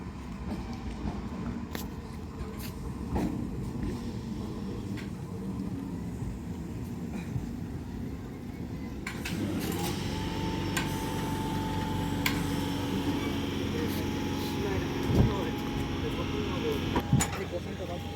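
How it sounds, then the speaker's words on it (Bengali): A train running slowly past Gokulnagar station at night, easing for a signal: a steady low rumble swells after the midpoint with a sustained horn-like tone and scattered clanks, heard at moderate distance under background noise. "তো ট্রেনটা দেখুন বেরিয়ে যাচ্ছে ময়নাপুরের উদ্দেশ্যে"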